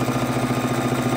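A sewing machine stitching together scraps of quilt fabric, a steady close mechanical whir with an even rapid pulse running without pause.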